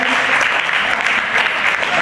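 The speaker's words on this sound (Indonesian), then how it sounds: "Oke, tepuk tangan buat teman-teman sekali." Loud, steady applause from an audience at a personal branding presentation, a dense unbroken wash of clapping filling the whole moment.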